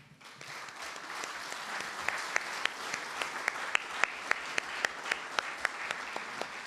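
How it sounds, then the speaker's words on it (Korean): An audience at a Jeju 4.3 memorial gathering for bereaved families applauds steadily, a dense wash of clapping with sharper individual claps punctuating it, building slightly and continuing throughout. "우리 고가형 양에게 여러분 다시 한번 큰 박수 부탁드리겠습니다."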